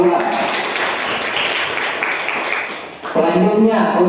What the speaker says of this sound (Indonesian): Beri tepuk tangan untuk regu A.